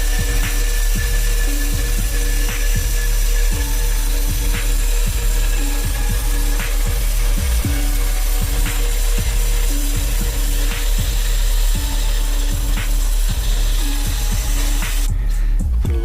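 A power saw cutting metal stock for a homemade trike frame, with repeated rhythmic cutting strokes and a steady mechanical drone throughout, close and loud, no talking.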